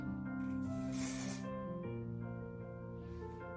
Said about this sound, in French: je vais appliquer le spray par-dessus le gel que j'ai appliqué en fait